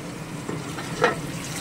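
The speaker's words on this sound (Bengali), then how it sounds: "এবার এখানে জল গরম করছি, আলু ভাজা হচ্ছে এখানে" Potatoes frying in a home kitchen pan, a brief steady close-up hiss with one soft clink of a utensil partway through.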